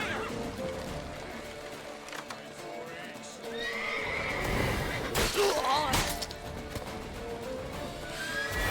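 A horse neighs loudly amid hoofbeats and clattering impacts, with a busy, dramatic backdrop of crashes and movement, in the video game The Witcher 3: Wild Hunt.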